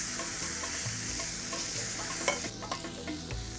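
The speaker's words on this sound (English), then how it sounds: "So what does frying do? Well, it releases the aromatic oils in the spices and lemongrass." A spice paste with lemongrass fries in a pan, giving a steady, bright sizzle with occasional stirring scrapes and clicks, close and fairly soft, with no voices.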